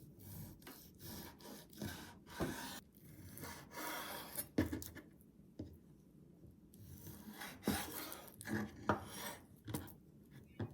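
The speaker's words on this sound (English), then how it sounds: "Cut the chicken into sticks of about 50 mm." Knife slicing chicken breast into sticks on a cutting board for tempura, steady rhythmic rasping and scraping strokes with light taps of the blade on the board, close and quiet, with no talking.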